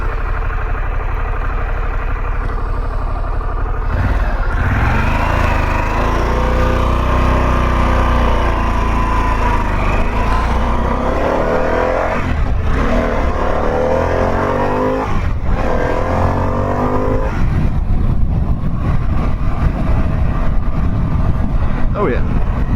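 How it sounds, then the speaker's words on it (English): A 2022 Harley-Davidson Pan America motorcycle is ridden on the road, its engine rumbling loud and close throughout with rising and falling revs, while a rider talks over it. "Oh yeah, this bike's got plenty of power right here."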